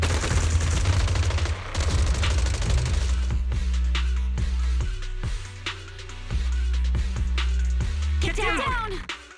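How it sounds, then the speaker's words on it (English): Sustained suppressive marching gunfire in the Zenless Zone Zero video game, dense rapid shots and booming impacts running throughout, with a voice speaking over the barrage. "Gunfire? This pattern. Suppressive marching fire."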